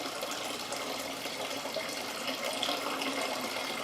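Water draining out of a flooded motor into a bucket, a steady close splashing pour that runs continuously without a break.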